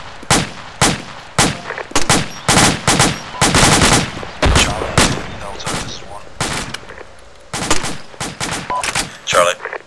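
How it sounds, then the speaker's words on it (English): Bursts of machine gun fire in the military shooter Arma 2, loud rapid strings of gunshots in repeated volleys with short gaps, some longer sustained bursts, with no talk over them. "Blue team, suppress my trace with machine gun fire and grenades."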